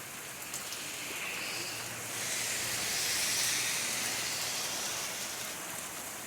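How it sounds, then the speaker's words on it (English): Steady outdoor rainfall, a dense continuous hiss of drops on surfaces that swells slightly midway, close and fairly loud with no voices. "I love it because of the way it's raining"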